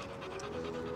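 A dog pants rapidly and steadily at close range in a park playground, a quick breathy rhythm that runs unbroken with no talking over it.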